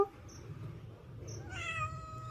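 A cat at an open window gives a single clear, fairly close meow near the end after a quiet stretch with faint background noise.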